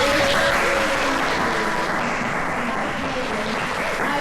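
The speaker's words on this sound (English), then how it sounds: "everyone needs to give a big round of applause to Sheena" A room full of people gives a round of applause for Sheena, a dense, steady wash of clapping that stays loud and even throughout, with faint voices mixed in.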